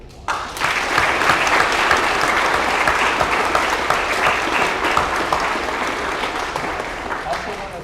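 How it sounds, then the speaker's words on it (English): A crowd at a Georgia military flagship school award ceremony breaks into loud applause for teachers and staff, the clapping swelling quickly and holding steady for several seconds before slowly thinning. "give your teachers and staff and everybody a round of applause."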